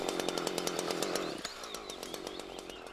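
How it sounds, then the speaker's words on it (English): A chainsaw cuts up from underneath a felled tree trunk to meet an earlier top cut, a loud, steady buzzing whine whose pitch drops partway through as the chain bites into the wood. "Then cut from underneath to meet the first cut."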